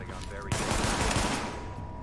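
Rapid gunfire rattles in Tom Clancy's The Division, a dense burst of automatic shots starting abruptly and continuing loud and close for over a second before tailing off into ambient noise.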